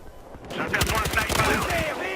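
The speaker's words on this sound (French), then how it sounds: "J'ai voulu tirer au jugé en mode YOLO" Rapid gunfire in the Battlefield Hardline multiplayer video game: dense, overlapping bursts of shots, loud and close, running continuously for about two seconds.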